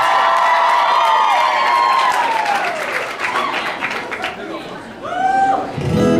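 A concert crowd cheers and applauds for a singer, loud and close, with whoops and shouts over a sustained roar, thinning out before a final burst of cheering.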